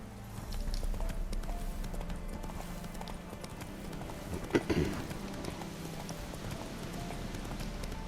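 Roach, Geralt's horse in The Witcher 3, clip-clops along at a steady gait, the hooves thudding rhythmically and fairly close, with a brief louder snort or whinny partway through.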